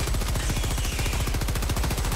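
Stalwart machine gun from the video game Helldivers 2 firing a steady, rapid automatic burst, loud and continuous throughout with no talk over it.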